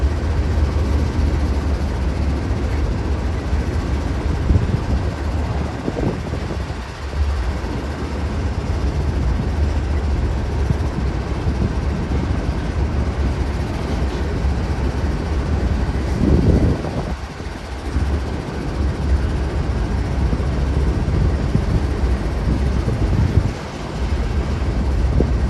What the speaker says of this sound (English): there comes in the train